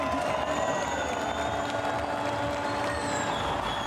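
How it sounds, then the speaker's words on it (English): Thousands of Chilean fans in the grandstands at the Santiago E-Prix Formula E race, a dense, continuous roar of applause and cheering, steady and loud with a whining electric race car sound threaded through. "The Chilean fans that have turned out in their thousands are getting to their feet, starting to applaud"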